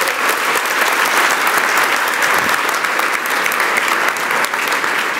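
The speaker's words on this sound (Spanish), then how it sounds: "Y dele un aplauso a Dios con todo su corazón." Congregation at a Wednesday Christian church service clapping loudly and continuously, a dense and even wall of applause with no talk over it.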